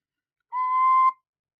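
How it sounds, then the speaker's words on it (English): A single tin whistle note rings out clear and steady for about half a second, bright and close with no other sound around it. "I have a tin whistle on my desk, though, so I can make squeaky noises."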